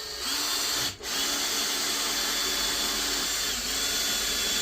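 A power drill drives screws into the plywood floor of a camper van conversion, a steady close whirring with a brief pause near the start.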